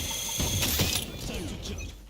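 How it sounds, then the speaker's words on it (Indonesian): A short mechanical clatter of a weapon being reloaded in a first-person shooter, with quick metallic clicks and a ratcheting slide over about two seconds, fairly close and clear. "Reload."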